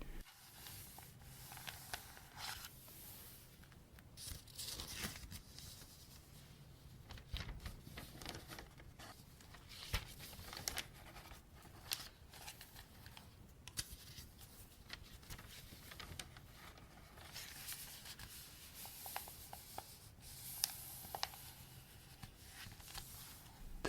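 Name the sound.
book pages turning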